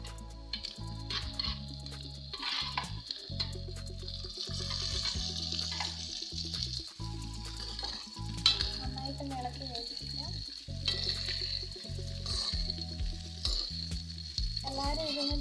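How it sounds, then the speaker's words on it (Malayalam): Cooked drumsticks go into a pan with curry leaves and are stir-fried, producing a loud, continuous close sizzle with stirring clatter over background music. "ഇനി ഇതിലേക്ക് വേവിച്ച് വെച്ചിരിക്കുന്ന മുരിങ്ങയ്ക്ക ഇട്ട് കൊടുക്കാം"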